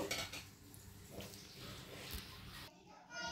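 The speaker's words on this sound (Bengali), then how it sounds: "একটা পাত্রে ঢেলে নেব।" A cooked dish is poured into a serving container, with close clinks and scrapes of cookware and utensils over a few seconds and a soft wet slide of food.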